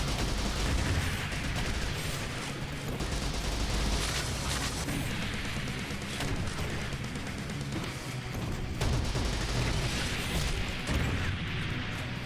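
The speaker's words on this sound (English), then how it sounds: "Whoa, that was a big explosion." A dense, continuous roar of video-game explosions and gunfire from Captain Wayne fills the whole stretch, loud and unbroken with bursts and crashes layered together and no clear gaps.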